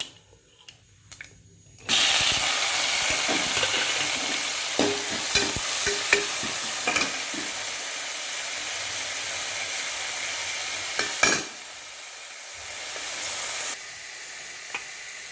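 Onions and drumstick leaves sauté in hot oil in a pan for a Tamil drumstick-leaf kuzhambu, a loud steady sizzle with stirring scrapes and clinks, starting after a short quiet and briefly dipping midway, with no talk.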